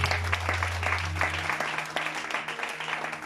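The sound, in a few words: church congregation applauding to acclaim the Lord Jesus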